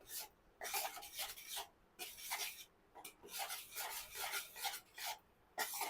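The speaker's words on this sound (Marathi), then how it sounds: "आता हे तूप चांगलं मिक्स करून घेऊयात" A spoon scrapes and rasps repeatedly against a pan while ghee is stirred into rajgira ladoo mixture, the strokes coming in steady bursts with short pauses, close and fairly quiet.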